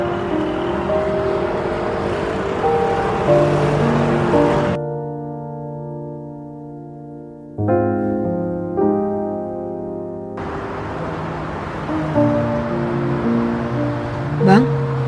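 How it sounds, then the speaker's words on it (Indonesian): An old motorcycle engine runs with an uneven, odd-sounding drone and hum, loud and close, with a stretch of steadier tonal engine noise in the middle. "suara motor abang kok aneh gitu? Gak seperti biasanya."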